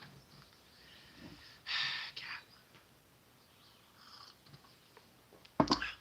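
A house cat purrs and snuffles close by while kneading, with breathy bursts and soft snorts rising over a quiet room and a sharp, louder burst near the end.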